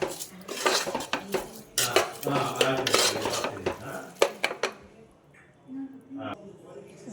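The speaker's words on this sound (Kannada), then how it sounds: "ಆ 1 ಕಪ್ ಅಕ್ಕಿನ ಇದಕ್ಕೆ ಹಾಕ್ತೀನಿ. ಹಾಕ್ಬಿಟ್ಟು ಈ ಮಸಾಲೆನಲ್ಲಿ ಒಂದು ಸ್ವಲ್ಪ ಫ್ರೈ ಮಾಡ್ತೀನಿ." Washed rice being stirred and fried in masala in a pot, with repeated metal spoon scrapes and clinks against the pot, close and fairly loud, fading to sparser taps near the end.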